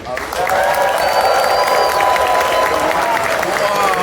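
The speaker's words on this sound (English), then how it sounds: "give a round of applause for the Hilton staff" Audience at the ConFuzzled 2024 furry convention opening ceremony in a Hilton hall applauds in a dense, continuous wave of clapping, with scattered cheers and a voice faintly beneath.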